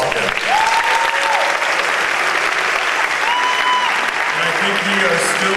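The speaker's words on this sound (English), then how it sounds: "Let's give them all a round of applause again." A crowd claps steadily at a 2014 coronation event, a loud continuous wash of applause with voices talking and calling out over it and a few tonal cheers or whistles rising through.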